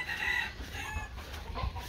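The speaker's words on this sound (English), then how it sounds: "lot chicken here" Chickens cluck and a rooster crows at a rural outdoor cooking spot, moderately close, with a steady mix of bird calls and background noise but no talk.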